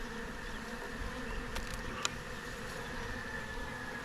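Honey bees hum steadily at a hive, a continuous faint droning buzz with a few brief closer passes of individual bees, no voices present.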